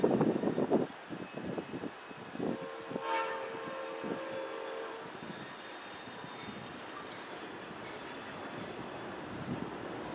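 An approaching Amtrak passenger train rumbles steadily in the distance, its horn sounding briefly early on before the low rolling noise continues on its own.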